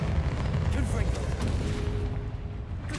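A Confringo blasting spell in Hogwarts Legacy bursts into a dense, rumbling explosion that fills the space, loud and continuous, with a voice speaking over it.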